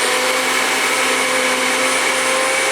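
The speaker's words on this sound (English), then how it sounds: "So the NutriBullet is an excellent way to grind this up into almost like a powder form." A NutriBullet blender grinds dry quinoa into a fine powder, giving a steady, loud, close whirring roar that holds without a break from start to finish, with no voices.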